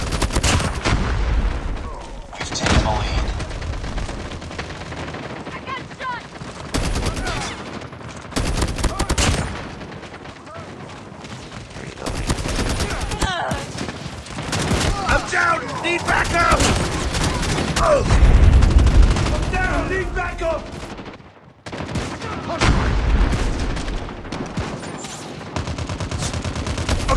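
Call of Duty gunfire rattles in dense automatic bursts and fusillades, with booming single shots and brief pauses, loud and close, mixed with game sound effects and occasional voices.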